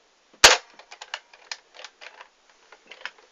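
Nerf N-Strike Retaliator blaster fired at close range: one sharp, loud snap of the spring plunger, followed by light plastic clicks and rattles of handling.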